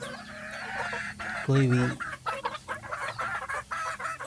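Desi chickens on a small farm in West Bengal give a loud close cluck amid ongoing low barnyard clucking while someone talks over them.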